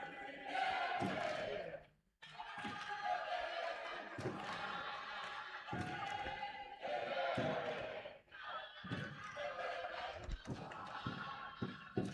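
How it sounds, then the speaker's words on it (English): A crowd at a university basketball game in Gaborone chants rhythmically in a packed indoor arena, a loud sustained roar with pulsing beats and thuds, a commentator speaking over it. "as you can hear there, the crowd is basically chanting that the home team is coming to beat them"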